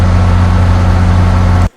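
A locomotive head-end power diesel engine in a train simulator game gives a loud, steady drone with a deep throbbing hum and a broad whooshing layer of cooling-fan noise on top, ending abruptly.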